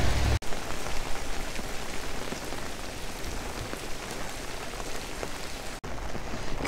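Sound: heavy rain pouring down during a storm

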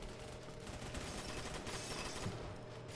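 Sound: gunfire from a video game

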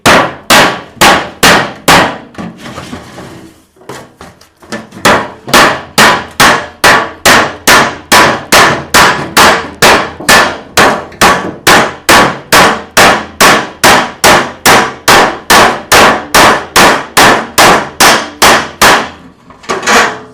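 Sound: cutting an empty metal oil tin

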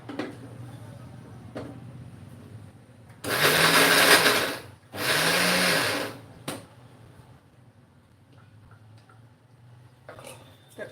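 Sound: mixer grinder briefly spinning peanuts and jaggery

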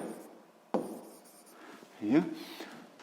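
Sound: writing a physics problem by hand

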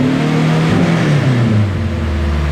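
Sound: turbo Honda EG engine revving on dyno, throttle body sticking

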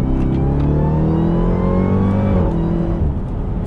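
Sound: Jeep Trackhawk downshifting and revving high

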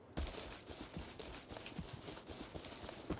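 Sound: horse hooves clip-clopping in a video game

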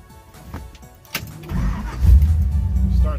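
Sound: 1955 Chevy Bel Air engine starting up

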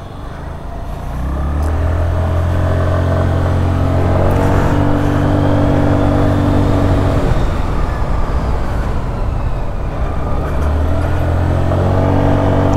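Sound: Hero Xoom 110cc scooter riding at speed

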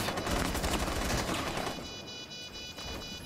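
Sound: gunfire in the video game Rainbow Six Siege

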